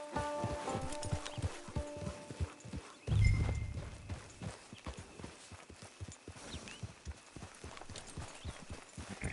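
Horse hooves in the video game Red Dead Online, a steady clip-clop walking rhythm with a brief snort midway, at moderate volume and without speech.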